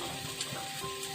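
Masala spices frying in hot oil, a soft steady sizzle with faint crackles, quiet and close, no voices.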